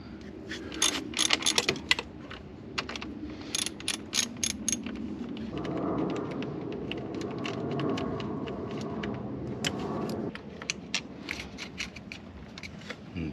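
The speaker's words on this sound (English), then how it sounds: "Radiator input has a bolt back here we'll take out." A ratchet loosens a 10mm radiator bolt in a Kia Soul engine bay, giving scattered, close metallic clicks in short bursts with a brief pause. A low, steady mechanical rumble runs beneath.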